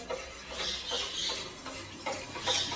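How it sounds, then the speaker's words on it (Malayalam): Spoon scraping and stirring a thickening chocolate biscuit pudding mixture with cornflour in a pan, a steady repeated swishing with light clicks, close and alone. "ഇങ്ങനെ കൈവിടാതെ ഇളക്കിക്കൊണ്ടിരിക്കാം."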